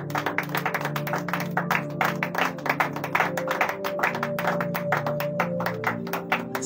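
A church congregation claps and applauds in praise of the Lord, with steady, dense rhythmic clapping running throughout alongside sustained music tones and faint voices.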